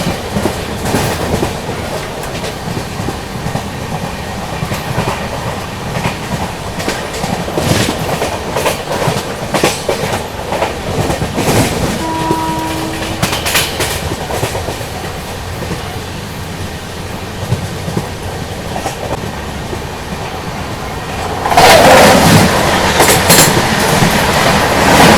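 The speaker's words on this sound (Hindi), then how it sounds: "अभी देखो सामने से आ रही है गांधीनगर कैपिटल दौलत चौक एक्सप्रेस।" Gandhinagar Capital Daulatpur Chowk Express passes close by, a sustained loud rumble with rhythmic clickety-clack of wheels over rail joints, brief squeals, and a surge of louder noise near the end as the carriages rush past.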